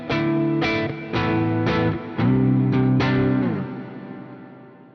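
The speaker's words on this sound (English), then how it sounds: "Currently, my guitar is in standard tuning," Electric guitar in standard tuning played through the Archetype Plini X amp plugin, with a few strummed chords ringing out under chorus and reverb before a long sustained chord fades away.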